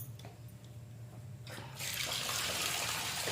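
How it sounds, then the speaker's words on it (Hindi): Tap water starts running into a vessel as frozen salted fish is put in to thaw, a steady close splashing stream after a quiet start. "अब मैं इसको डालूंगी पानी में"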